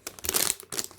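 Crinkling of a sealed plastic bag of robot model parts that has had its top cut off: a few quick, close crackly rustles in short bursts.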